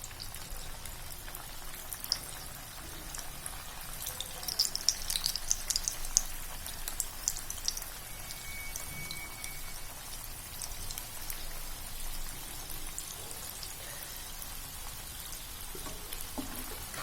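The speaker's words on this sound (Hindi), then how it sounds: "अब हम एक एक करके इनको फ्राई कर लेंगे" Malai kofta balls frying in hot oil, a constant fine sizzle and crackle with occasional louder pops, steady and close throughout.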